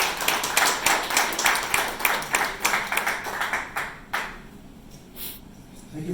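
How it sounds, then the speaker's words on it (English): Small gathering at a restaurant inauguration in Milton, Ontario, applauds town councillor Rick DeLorenzo, modest rhythmic clapping from a few people that dies away after about four seconds, leaving quiet room tone with scattered faint claps. "Big round of applause for Rick."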